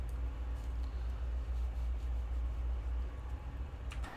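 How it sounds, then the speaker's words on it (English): A heavy CP AC4400 diesel locomotive pulling a long train in Train Simulator rumbles with a deep, steady low drone and faint metallic hiss while braking, ending in a brief squeal near the end. "This is a very beefy locomotive. It's got very beefy braking systems"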